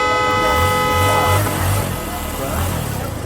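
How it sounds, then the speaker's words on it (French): Car horns honk in busy street traffic near a stadium, a sustained blaring horn tone over rumbling engines, with a voice speaking over the traffic. "entre bruit de moteur, klaxon de voiture et vendeurs à la sauvette"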